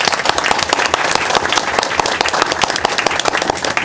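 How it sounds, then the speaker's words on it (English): At a school board of education meeting, the audience claps for student athletes in a brisk, busy burst of overlapping hand claps, close and fairly loud throughout. "Once again, a round of applause for all of our student athletes."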